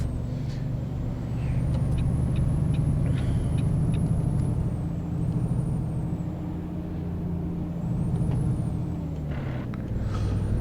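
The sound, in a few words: Kenworth T600 truck brakes in video game American Truck Simulator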